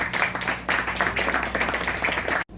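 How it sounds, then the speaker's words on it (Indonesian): Audience applause at an Indonesian talk on fine art and books in the digital era in Yogyakarta, a steady patter of clapping hands sustained for about two seconds before cutting off sharply. "Tepuk tangan dulu Pak Basira."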